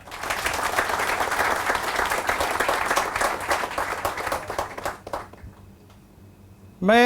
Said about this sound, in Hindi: उनके लिए एक जोरदार ताली हो जाए